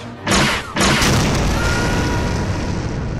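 Star Wars blaster fire: two loud close bursts in quick succession, each a sharp blast that trails into a long roaring rumble.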